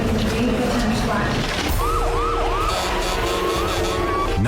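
Police and ambulance sirens wail loudly as emergency vehicles race up a road into a campground at Tanner's Flat, a rising and falling tone sweeping repeatedly over traffic noise, with a voice heard briefly.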